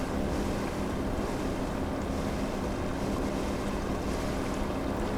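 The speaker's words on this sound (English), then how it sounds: "See, we're chopping our way. Wow, these waves are pretty serious." A police boat in the Seafarer ship sim plows through rough, heavy waves, with a steady loud roar of churning water and wind buffeting continuously, no voices.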